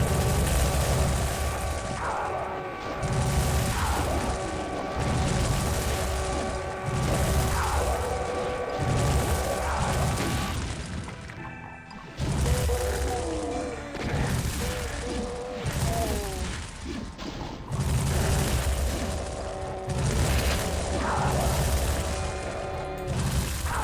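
Flamethrower burning enemies in a Doom II map, loud roaring bursts of fire that repeat in waves several seconds long, with short pauses and crackling impacts between them.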